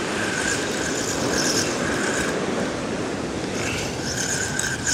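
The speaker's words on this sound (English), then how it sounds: "the waves all of a sudden get quite big" Broadband wash of sea surf breaking on a UK beach during cod beach-casting, steady and loud throughout with gentle swells in intensity, no voices.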